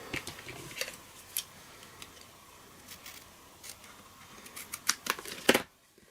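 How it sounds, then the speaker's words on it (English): Scissors snipping off excess paper, a series of quiet crisp cuts at an uneven pace, growing denser and louder toward the end before falling silent. "And then just snip off the excess."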